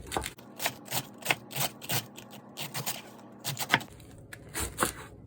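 A knife slicing a head of cabbage for sauerkraut in a home kitchen, with a run of crisp, quick cuts and scraping strokes in an irregular rhythm and brief pauses between them, close and fairly quiet.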